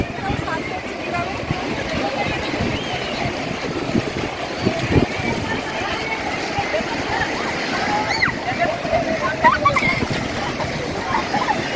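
People bathing in water, with continuous splashing and sloshing close by under a broad wash of outdoor noise, with faint voices mixed in throughout.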